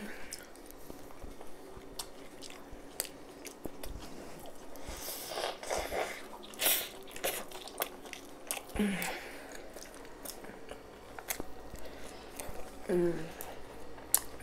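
Someone eating spicy beef shawarma, with scattered bites, crunches and wet chewing sounds at close range, broken by a few quiet voice moments.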